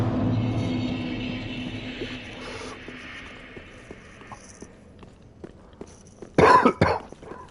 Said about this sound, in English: but nearly had a right coughing fit